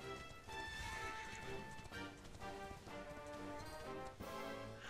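Horse hooves galloping in the video game Dragon Quest 11, a steady rapid clip-clop running through the whole stretch amid game music and ambience, loud and continuous.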